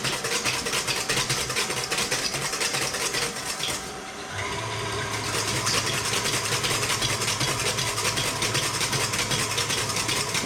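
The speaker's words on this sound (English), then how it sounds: "we're just whisking away with the sabayon" An electric mixer whisks sabayon in a kitchen, a steady loud motor whir that drops briefly and then returns, running alone throughout.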